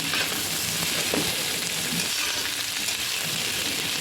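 Capsicum stir-frying in a hot pan for chowmein gives a dense, continuous hiss of sizzling oil at an even level, with faint stirring movements beneath and no talk.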